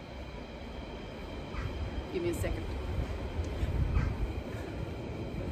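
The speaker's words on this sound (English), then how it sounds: "Here comes a train." A train passing near a home, a low rumbling roar that slowly swells and grows louder toward the end, with a person speaking briefly over it.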